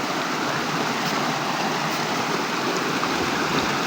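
A flowing river stream, steady dense rushing water filling the scene at close range, continuous with no talk.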